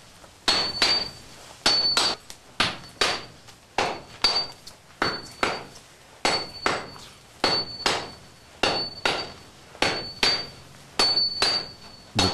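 A Japanese swordsmith hammers a composite steel blank to shape a sword, sharp ringing metallic blows landing in steady pairs and short bursts, close and loud, with a bright clang on each strike.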